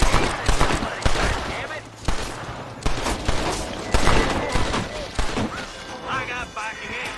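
Dense gunfire in the Red Dead Redemption video game: rapid, loud volleys of shots and impacts crackle almost nonstop, with a voice briefly cutting through the shooting.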